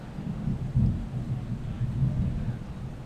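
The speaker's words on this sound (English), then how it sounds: "Seems like this thunderstorm is coming closer." Deep rolling thunder from an approaching thunderstorm, muffled as if heard through closed windows, swelling in a couple of low surges over a few seconds with no voices.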